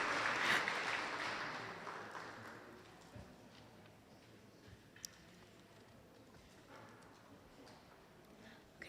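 Applause for a panel of landlords and tenants at a landlord symposium, a moderate clatter of clapping that swells at the start and fades out over several seconds, then leaves quiet room noise with a few stray claps.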